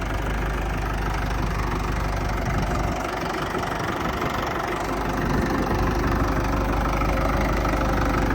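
A Mahindra 575 tractor engine idles steadily in a soft farm field, a loud, close, continuous diesel chug with a rough knocking texture and no talk.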